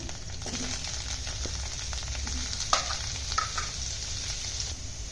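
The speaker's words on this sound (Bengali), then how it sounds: "সেই আলুগুলি ভেজে নিচ্ছি" Salted potato pieces frying in hot oil give a continuous close sizzle, broken by a few light scraping and clicking stirs partway through.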